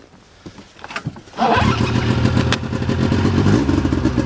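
A Polaris Edge snowmobile fitted with a Sno-Stuff exhaust cranks and fires up, settling into a loud, steady, close rumbling idle after a few quieter starter clatters.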